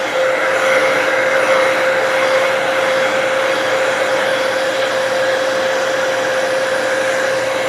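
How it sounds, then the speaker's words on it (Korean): A hair dryer blows on a customer's hair in a scalp care salon, giving a loud, steady whirring roar with a constant motor whine that runs unbroken throughout, with no talking. "이제 오늘 여기까지만 하고 머리 한번 말려 보겠습니다"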